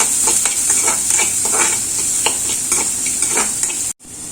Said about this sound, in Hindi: इसमें प्याज, मीडियम साइज प्याज, इसे हल्का सा नरम करेंगे, ज्यादा नहीं पकाएंगे।